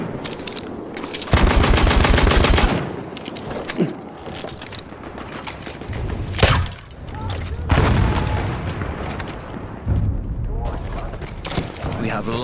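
Perino M1908 machine gun in a World War I video game, firing rapid bursts with mechanical clatter amid other battle noise, while voiced in-game callouts play.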